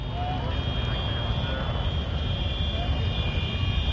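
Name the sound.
many tractors working at once at a French ploughing championship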